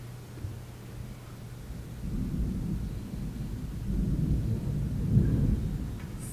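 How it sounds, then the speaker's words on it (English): Thunder rumbles outside on a sunny day after rainy weather, a low, faint, rolling rumble that swells and fades over several seconds, distant and indoors-muffled, with no voices. "It's thundering outside, but it's sunny."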